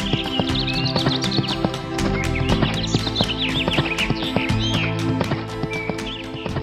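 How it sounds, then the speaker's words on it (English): A horse in an animated forest tale rides off, hooves clip-clopping in a steady, fast rhythm of sharp knocks under a bright musical score with birdlike chirps, and no talk. "And so Morris leapt on his horse, Philip, and rode off."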